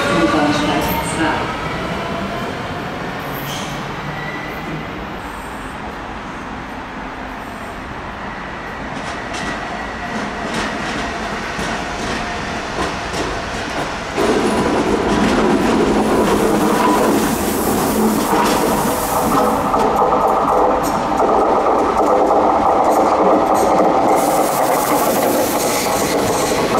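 At Wien Matzleinsdorferplatz station in Vienna, a train rolls through with a rumble of wheels and rail clatter, growing louder and fuller about halfway through as it passes close by.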